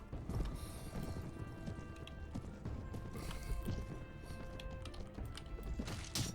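Horses of an enemy force gallop in the medieval combat game Mount and Blade: Warband, Prophesy of Pendor mod, a steady run of hoofbeats mixed with clattering battle noise throughout, with no voices.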